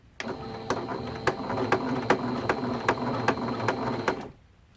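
Sewing machine back-stitching a quilt binding, a rapid rhythmic run of close mechanical clacks over a steady motor whir, stopping abruptly near the end.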